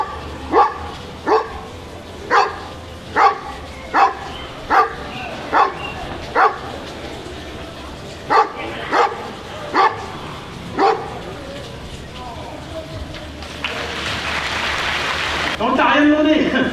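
A dog barks about a dozen times in a steady, evenly spaced series, close and loud, followed by a burst of rushing noise.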